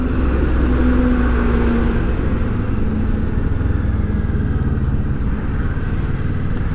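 A steady, loud roar of a 2018 Kawasaki Versys 650 ABS Tourer riding through heavy traffic on the BR-232 toward Recife, with continuous engine drone and road noise that never lets up.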